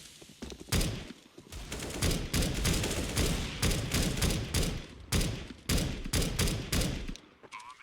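Dense video-game gunfire from teammates on a bomb-plant map, with rapid bursts of shots and thuds packed tightly together, loud and close throughout with only brief gaps.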